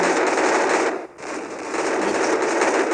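Dense, continuous rapid gunfire from the video game Free Fire, loud and sustained, with a brief drop in the barrage about a third of the way through.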